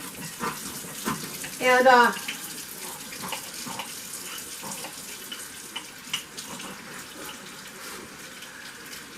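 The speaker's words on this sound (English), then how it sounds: "So we're going to wash all my jars, get them nice and clean," Hot tap water running steadily into a sink while glass canning jars are washed, a continuous near wash of water with a brief voice over it.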